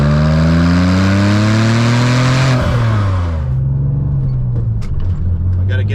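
A Porsche 996 Turbo fitted with a Fabspeed titanium exhaust drives along. It makes a loud, steady droning tone that eases down in pitch partway through, then holds a constant cruising hum.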